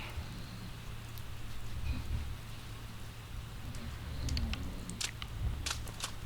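Steady rain ambience from the video game Persona 4 Golden, a continuous soft hiss with scattered patter and a low hum underneath, with no voices.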